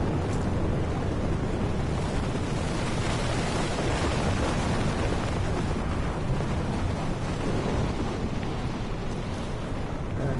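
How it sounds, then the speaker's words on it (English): Hurricane storm in the Battlefield 4 game, a dense, constant roar of wind and heavy rain with rumbling low thunder running steadily for the whole stretch, loud and close with no talking. "Oh, the hurricane is here."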